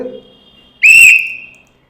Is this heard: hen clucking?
no